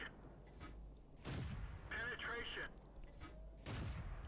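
Tank cannons fire in World of Tanks as a T71 unloads shells into the side of an IS-3: several heavy booming shots spaced a second or two apart, with a voice talking over them.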